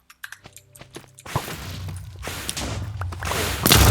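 Explosions from the Minecraft boss fight against the Wither: a burst of heavy, crashing blasts begins after a quieter stretch of thuds and builds into a loud, dense roar. It peaks in a final close blast.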